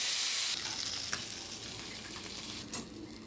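Fish pieces frying in a pan give a steady, close crackling sizzle that runs without pause, with a louder hiss at the start and a brief clatter near the end. No one speaks.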